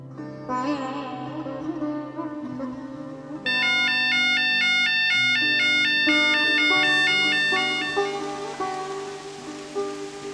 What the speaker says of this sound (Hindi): मछली के पोषक टैंकों में पानी का स्तर कम होते ही सूचना देता अलार्मिंग सिस्टम